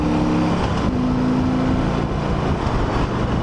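A 2008 Harley-Davidson Ultra Classic Electra Glide motorcycle pulls hard through the gears into sixth, its engine droning loud and steady close to the microphone.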